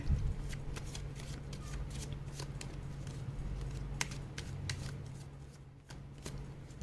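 Tarot cards being shuffled by hand during a reading, a quiet series of soft riffling flutters and taps with a light low hum beneath, with no voices.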